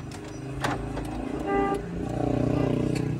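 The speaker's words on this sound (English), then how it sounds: "bugurumisha vile nikuonyesha kugurumisha gari" A manual car engine idles and revs, rising and falling under a brief horn-like tone and mechanical clatter, fairly close and continuous throughout.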